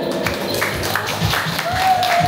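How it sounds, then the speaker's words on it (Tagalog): Wedding guests at one table clapping loudly together, a dense continuous patter of applause filling the room with a few cheers mixed in. "papakinggan ko po yung malakas na palakpak ng bawat table"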